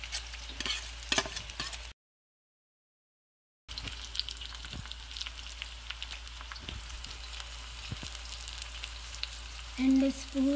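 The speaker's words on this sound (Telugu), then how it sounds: "ఆ నీరంతా పోయి ఎరుపు రంగు వచ్చే వరకు వేయించాలి" Bitter gourd (kakarkaya) frying in oil and being stirred in a pan, a steady close sizzle with scattered spatters and utensil scrapes, briefly cutting out partway, with a louder stir near the end.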